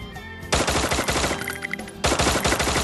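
Rapid automatic gunfire in the mobile game Free Fire, loud and close: a dense stuttering burst, a brief lull with fainter shots, then another sustained volley.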